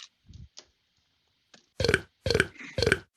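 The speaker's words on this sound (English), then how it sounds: "We have burps." Three loud, guttural burps come in quick succession near the end of a gaming stream, after a few faint clicks and short scraps of noise.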